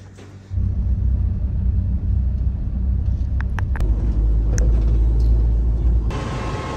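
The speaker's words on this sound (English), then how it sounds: "Guys, look at the traffic in downtown Cairo." Traffic in downtown Cairo heard from above: a dense, steady roar of engines sets in abruptly and rolls on, with a few short horn-like tones poking through near the middle.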